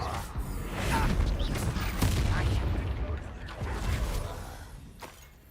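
Bombarda blasting spell from Hogwarts Legacy, several heavy explosive bursts with shattering and crackling debris in a dense, loud battle mix, with a voice speaking over it.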